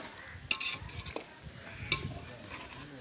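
Food cooks in a pot over an open fire in the Kolli Hills, with soft bubbling and sizzling, occasional sharp clinks of stirring against the pot, and a low background crackle, fairly quiet and close.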